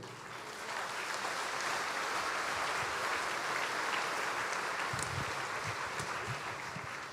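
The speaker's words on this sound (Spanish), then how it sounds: "Un fuerte aplauso a la Virgen." Sustained applause from a church congregation during a Spanish-language sermon, steady and fairly loud, with no voices over it, tapering slightly at the end.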